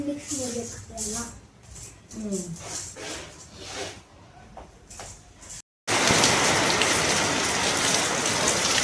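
Heavy monsoon rain in Belagavi roars steadily and loudly after a short silence, following a stretch of people talking over a softer hiss.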